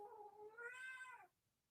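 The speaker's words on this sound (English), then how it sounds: "My cat has an opinion about that." A domestic cat gives a single drawn-out meow that rises then drops off, fairly soft and close by, with no talking.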